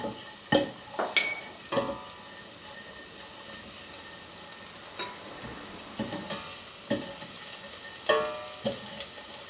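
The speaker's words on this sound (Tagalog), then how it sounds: "Saute the garlic and the onion. Garlic. Give it a stir until it turns golden brown." Garlic sautés in hot oil for a vegetarian caldereta, with a soft steady sizzle broken by repeated sharp clinks and scrapes of a utensil stirring the pan.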